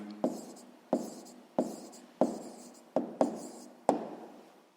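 A pen scratches across paper in seven short repeated strokes at a steady pace, close and fairly clear, with no one speaking over the writing.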